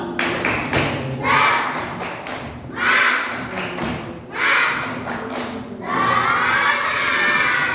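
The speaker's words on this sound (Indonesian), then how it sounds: "Coba sama-sama tepuk semangat." Schoolchildren in a classroom perform a rhythmic spirit clap chant, loud shouted voices alternating with bursts of sharp unison clapping in several close, energetic rounds.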